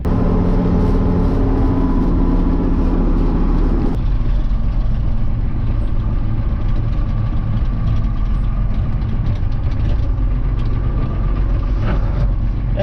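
A Fortschritt tractor engine runs steadily close by, with a loud, continuous low-pitched rumble and a faint mechanical rattle. The tone shifts slightly partway through, and no one speaks.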